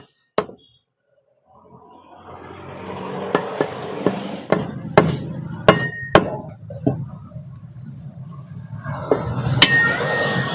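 A butcher chopping fresh mutton with a cleaver, sharp, loud chops in an uneven series over a low shop background, with a few clinks and faint voices nearby.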